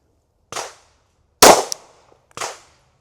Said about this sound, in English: Let's take a shot with it and see where I'm at.